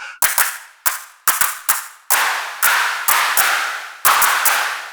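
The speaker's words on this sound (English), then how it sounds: "The spreader claps. And like the clap fake reverb that you get." Spread clap sample from a Bohm or Drum Farm drum module, with artificial reverb tails. Sharp clustered claps repeat in an uneven rhythm, each smeared by a short decaying wash, loud and alone.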